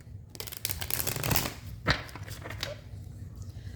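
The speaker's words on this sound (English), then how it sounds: "And we got the 5th shuffle now." Tarot cards being shuffled by hand, a faint series of quick papery riffles and soft flicks with a couple of sharper snaps, heard alone at low level.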